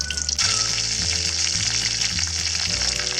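Dried red chillies and curry leaves fry in sesame oil after mustard seeds, for mango pickle: a close, steady sizzle and crackle with faint stirring, no voices.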